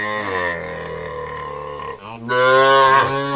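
Calves on a cattle farm in Pirojpur moo loudly and close by, one long call giving way to a second, stronger bellow after a brief break, with no talk over them.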